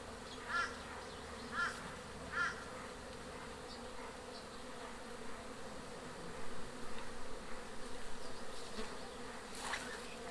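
Honey bees buzzing around an open hive during an inspection in cold-season preparation, a low steady hum with a few individual bees droning close by in short passes.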